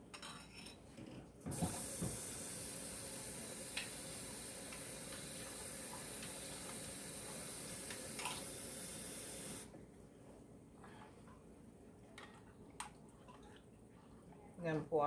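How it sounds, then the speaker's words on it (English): Liquid pours steadily into a bowl while steak fajita nachos are being prepared, a faint, even hissing stream lasting about eight seconds before cutting off, with small clinks around it. "So I'm gonna fill this bowl up"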